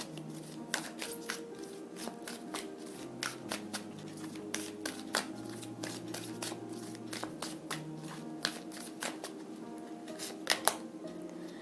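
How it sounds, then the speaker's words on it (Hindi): A deck of tarot cards is shuffled by hand, close and crisp, with a long run of irregular riffling snaps and soft slides and no speech over it. "but we will shuffle for one more time and C"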